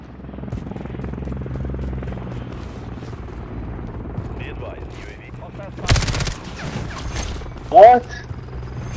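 A video game firefight plays out with a constant low engine drone. A sudden loud burst of rapid gunfire cuts through partway, and a shorter sharp shot or blast follows near the end.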